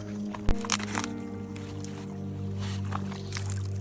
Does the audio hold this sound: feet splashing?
yes